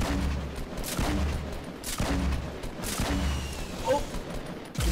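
Gunfire in the battle-royale shooter H1Z1 as a squad opens fire on a supply drop: repeated heavy volleys with low booming thumps at roughly one-second intervals, fairly loud and continuous.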